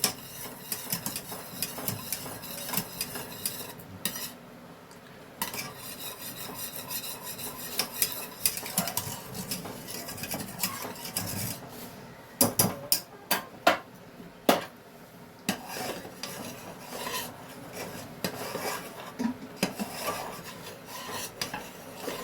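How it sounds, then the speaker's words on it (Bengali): A spoon stirs butter into a sweet dessert mixture in a pan, with continuous scraping and rubbing and occasional metallic clinks against the pan, close and steady, without any talking. "এবার ভালো করে বাটারটা এর সঙ্গে মিশিয়ে নিতে হবে।"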